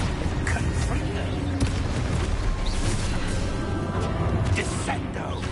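A Confringo fire spell exploding in Hogwarts Legacy on PS4, heavy booming blasts within dense, continuous game noise, with a voice speaking over it.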